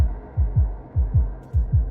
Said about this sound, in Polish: Te bicie serca, dajcie spokój, dobra.